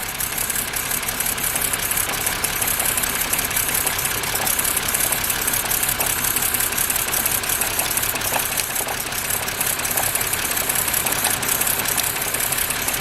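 A 2006 BMW E90 engine idling with ignition coils 2 and 3 pulled while chasing an engine vibration fault, a steady, loud, uneven mechanical drone with a faint knocking roughness running unbroken throughout.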